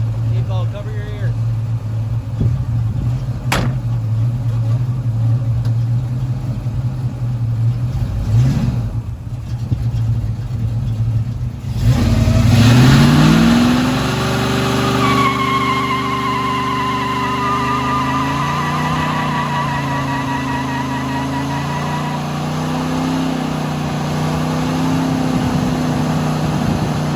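A race car engine, run in a driveway, idles loud and steady, then blips and revs hard, rising and falling in pitch through the rest of the stretch, with a voice talking over it near the start.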